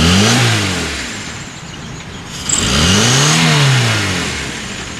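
A car engine with carburetor trouble, under repair at a garage, revs up twice in smooth rising and falling swells from idle, loud and close, with no talking.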